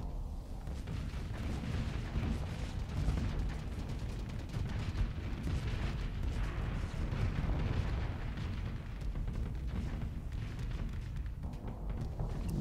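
Hellbore cannons and missiles firing in the Starsector space combat game: a dense, unbroken roll of heavy booms and rumbling blasts that stays loud and constant throughout.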